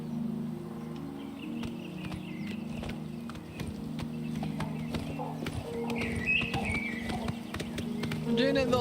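A horse trots along the road to Kvatch in Oblivion Remastered, its hooves clip-clopping in a steady rhythm over a low ambient drone with occasional bird calls.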